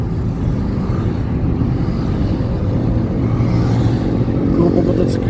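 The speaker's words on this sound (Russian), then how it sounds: "Группа мотоциклистов куда-то едет." A group of motorcyclists rides past on a highway south of Quito, Ecuador, along the Avenue of the Volcanoes, their engines a steady loud drone with road rumble continuing throughout.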